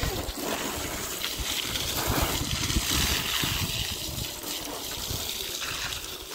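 Water runs and splashes over a large paarai fish being washed by hand, a steady close gushing and trickling with sloshing surges and no clear talk.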